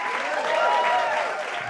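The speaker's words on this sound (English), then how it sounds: "I got applause for becoming a vegan today" An audience applauds in a brief, dense burst of clapping, loud and close, lasting under two seconds with no speech over it.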